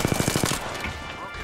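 Rapid automatic gunfire in the video game Apex Legends, a fast burst of about seven loud shots in the first half second, followed by a fading echoing tail.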